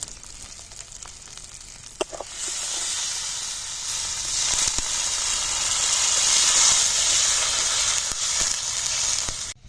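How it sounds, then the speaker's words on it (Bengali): Water poured into a wok of hot fried spice paste for a ball kofta fish curry sets off a loud, steady sizzle and hiss that swells and holds, with a few clinks near the start. "এবার জল দিয়ে দেবো"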